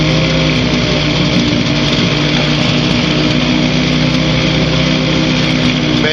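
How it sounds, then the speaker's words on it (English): A Challenger II ultralight aircraft engine runs rough on the runway, a loud, steady, high-pitched buzzing drone close by, throbbing unevenly, with no talk over it. "Boy, that engine's running rough."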